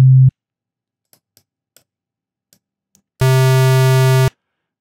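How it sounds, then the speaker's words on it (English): A brief low hum cuts off, a few faint ticks follow, then a loud, buzzy, harmonically rich square-wave tone, a sine wave distorted by a plugin, sounds steadily for about a second. "And now the sine wave is a square wave."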